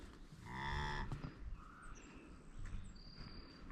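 A year-old beef heifer cow gives one loud, drawn-out moo in the first second, followed by quieter farmyard ambience with birds chirping and insects in the background.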